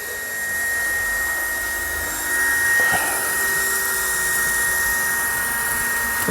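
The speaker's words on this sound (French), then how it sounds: "on entend l'aspirateur" A small vacuum-cleaning wagon runs on a model railway track, giving a steady, loud, high-pitched motor whine with a sustained tonal hiss that stays nearly constant throughout and has no talking over it.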